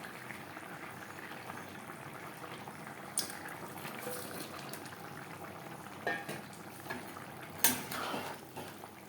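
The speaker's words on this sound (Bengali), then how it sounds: "গ্রেভি ফুটে ওঠা পর্যন্ত অপেক্ষা করব।" Bengali-style fish curry gravy with vegetables bubbling steadily in a pan, a soft continuous simmer with a few sharp utensil clinks and pan knocks rising above it, no talking.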